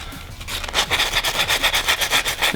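High-grit sandpaper rubs back and forth along the edges of a QAV-R RaceBlade racing drone frame in steady, rhythmic strokes, close and fairly loud.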